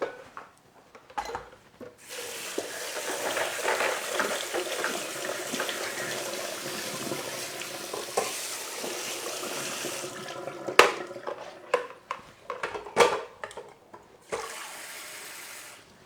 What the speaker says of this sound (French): Donc là, mes œufs, je les passe sous l'eau froide.